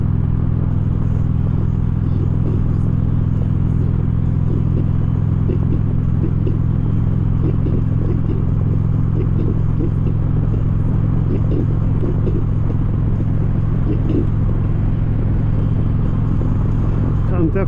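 A motorcycle rides down the road with a constant loud engine rumble and wind noise, a steady drone throughout while a rider talks over it.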